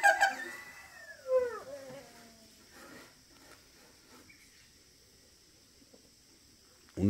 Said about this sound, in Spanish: las abejas no paran, ellas van y van y van